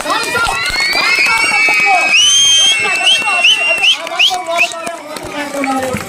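Loud crowd cheering and clapping for Shankar Prasad at a rangoli (muggulu) competition prize ceremony, a dense continuous roar of applause and whoops with shouting voices over it.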